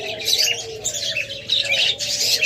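Diamond doves in a bird shop give soft, steady cooing with bright chirps and tweets from other caged birds layered over it, close and continuous, with no talking.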